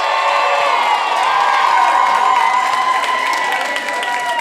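An audience at a live comedy show at Club Soda breaks into loud, sustained applause mixed with cheers and whoops.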